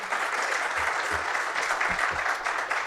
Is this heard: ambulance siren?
no